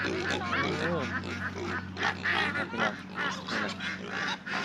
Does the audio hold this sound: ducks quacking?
yes